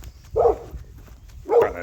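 A dog gives two short barks about a second apart, moderately close and clear, with quiet room noise between them.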